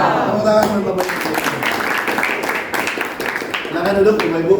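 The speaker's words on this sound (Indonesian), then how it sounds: "Tepuk tangan buat Bapak Ibu." Group clapping at a teachers' school gathering, a steady patter of many hands sustained through the whole stretch at moderate loudness, with voices blending in beneath it.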